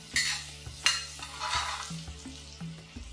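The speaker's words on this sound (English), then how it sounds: "I'm going to add an inch of ginger that I've finely chopped, 4 green chilies that I've finely chopped, and I'm going to fry them till the raw smell goes off." Finely chopped ginger and four green chilies fry in butter and oil, a close, soft sizzle punctuated by several scraping stirs and light utensil clinks against the pan, with no talking.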